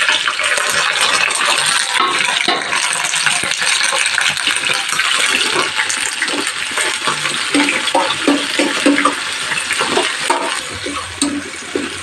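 A dried red chili frying on low heat in plenty of hot mustard oil in a pan, a loud, dense, continuous sizzle and crackle that carries on steadily throughout.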